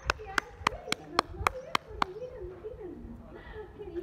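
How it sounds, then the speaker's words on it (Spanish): Evening quarantine applause in Barcelona, with seven sharp, evenly paced claps close by, followed by someone talking alone as the clapping stops. "Aplaudimos todos los días a las 8 de la noche para agradecer a toda la gente trabajando"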